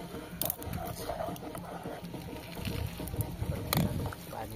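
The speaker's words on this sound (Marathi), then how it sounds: "मस्तपैकी चरचरीत उकळी आल्या बघ" Water boils steadily in a pot over a wood-fired chulha stove for Maggi noodles, giving a continuous bubbling churn with occasional sharper pops, close by and moderately loud.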